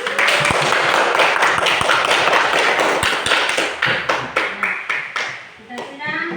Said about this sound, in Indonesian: Ya, kita beri tepuk tangan kepada